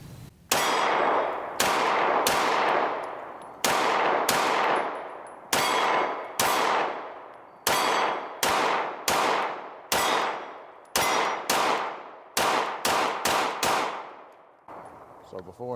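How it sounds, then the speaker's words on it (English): IWI Jericho 941 pistol fired outdoors near the woods, with some rounds striking a steel target: about fifteen loud, sharp shots at an uneven, fairly quick pace, each followed by a ringing decay. "I was trying to shoot out into the woods there, but it hit the target about 4 or 5 times."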